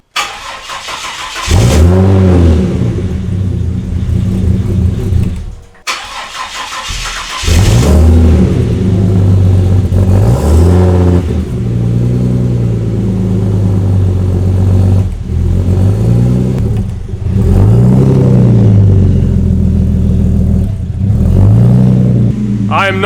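A Barra EF engine fitted with a new exhaust cranks and fires, then settles into a loud, close idle with repeated revs that rise and fall. There is a short pause before a second start, followed by more throttle blips.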